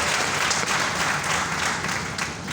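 An audience bursts into hearty applause, a thick continuous clatter of many hands that holds steady and then eases slightly toward the end.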